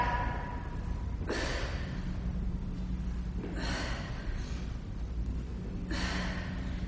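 Heavy exhalations during push-ups in a HIIT workout, three strong breathy bursts spaced a few seconds apart over a steady low background hum, close and fairly loud.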